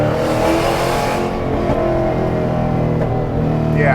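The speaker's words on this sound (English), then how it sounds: "incredible exhaust tone" A car's exhaust growls loudly as it accelerates, the deep engine note climbing and steady, heard close with no talking.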